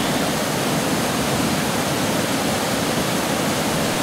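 High floodwater rushes into trees beside a swinging bridge on the Topsham side, a steady, loud, broadband roar of churning water that holds constant throughout with no voices.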